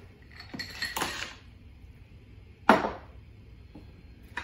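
Ice cubes tipped into a blender jar holding smoothie ingredients (apple, pineapple, sunflower sprouts, coconut milk): a close clatter of hard knocks near the start, one sharp rattling hit later and a faint tap at the end.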